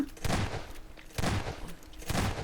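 Gunfire in a Garry's Mod game comes in three sharp rapid bursts, each a cluster of close, loud shots spaced about a second apart, with brief voice sounds between them.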